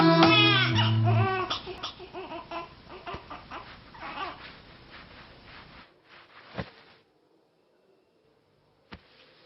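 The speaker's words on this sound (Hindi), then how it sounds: "बच्चा रो रहा है।" A baby cries in a scene from a South Indian film dubbed in Hindi, with loud wailing at the start that breaks into shorter sobbing bursts and then fades out to near silence.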